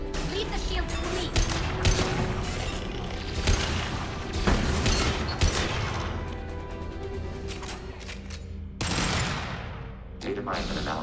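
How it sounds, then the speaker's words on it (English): A Mass Effect 2 firefight brings heavy, sustained gunfire, with rapid automatic bursts, booming impacts and crashes that stay loud and dense throughout, while a voice speaks briefly over the fighting. "Taking heavy fire."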